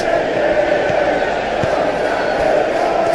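Steady stadium crowd roar from a PES 2021 football video game of an Aston Villa vs Tottenham Premier League match, a constant dense murmur throughout.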